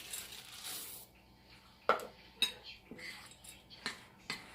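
Semi-sweet chocolate chips being stirred into waffle batter in a bowl, giving scattered clinks and taps of a utensil against the bowl at an uneven pace, close and fairly quiet.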